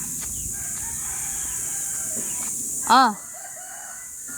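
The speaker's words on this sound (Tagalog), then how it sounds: "Mga native chicken." A native chicken rooster on a farm crows once, loud and close, over a steady hiss of insects and faint background voices.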